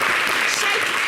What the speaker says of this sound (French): public, s'il vous plaît, applaudissez Cheikh Ivan